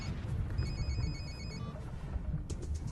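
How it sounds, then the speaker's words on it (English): An old telephone rings with a short electronic trill over a steady loud background hum, heard as one ringing burst in the middle, set in Moscow's Sokolniki Park in 1994. "Pick up the phone."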